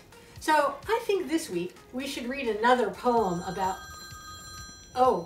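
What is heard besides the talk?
telephone ringing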